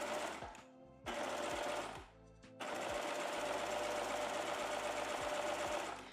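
A domestic sewing machine stitches swimwear elastic flat, running in fast rhythmic bursts with short pauses between them, close and clear with no talking.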